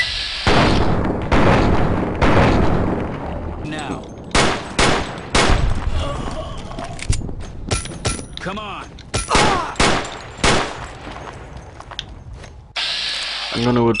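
Gunshots ring out in the modded game Fallout New Vegas, with sharp loud cracks, weapon mechanism clicks and scattered bursts separated by brief pauses, some blasts louder than others.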